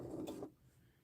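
A sewing machine stitches patchwork fabric for a duffle bag in a short, steady whirring burst, then stops and leaves near quiet.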